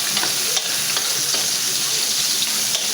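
Garlic and onion fry and sizzle in a pan for chicken curry, a steady dense hiss with scattered stirring scrapes throughout, close and fairly loud with no talking.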